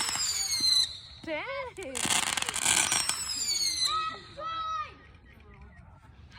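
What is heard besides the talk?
Fourth of July fireworks show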